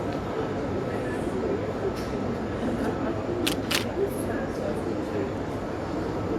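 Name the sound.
slow camera shutter click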